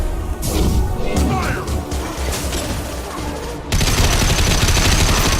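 Dense rapid gunfire from a firefight in the video game Mass Effect 2, loud and continuous with sharp bursts and crashes, shifting to a harsher, fuller barrage partway through.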